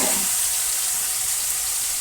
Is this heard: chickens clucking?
no